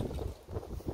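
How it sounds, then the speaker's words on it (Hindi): Strong wind buffeting the microphone in low, rumbling gusts in a home garden, steady and noisy with no voices. "आज बहुत तेज़ हवा चल रही है यहाँ"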